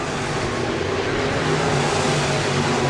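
A modified race car roars around the last lap at Crawford County Speedway, a loud, steady engine drone mixed with broad crowd and track noise, with no pause throughout.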